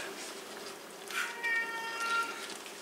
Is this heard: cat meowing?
yes